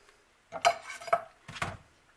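Sweet Italian sausage stirred in a pan on a stovetop burner gives three short bursts of metal utensil scraping and clinking against the cookware, close and moderately loud, with quiet pauses between.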